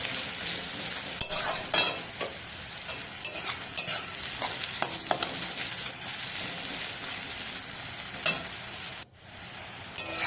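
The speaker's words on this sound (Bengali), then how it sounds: "পেঁয়াজটাও বেশ লাল লাল হয়ে গেছে ভাজা" Onions fry in oil in a pan with a steady sizzle, broken by frequent scrapes and clinks as they are stirred, and no voices.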